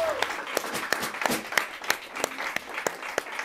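An audience applauds at a 2023 Latgalian prose reading event, with close, crisp claps forming a steady, loud ovation that holds at an even level for several seconds.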